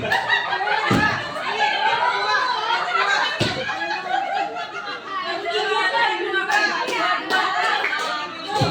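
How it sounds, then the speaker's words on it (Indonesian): A classroom group, apparently teachers at a training session, claps in counted rhythmic patterns amid overlapping chatter and laughter, with the claps close and bunched into short bursts. "tepuk 4, tepuk 5, tepuk 2 kali, tepuk 5."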